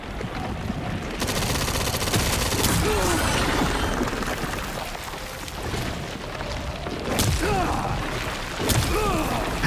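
Sustained gunfire and crashing combat noise from the Resident Evil 9 Requiem Tyrant fight, dense and loud throughout with bursts and impacts layered over game effects.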